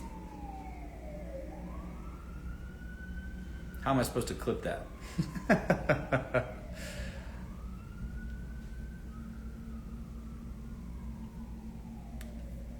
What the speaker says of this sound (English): There's like a fire truck going by.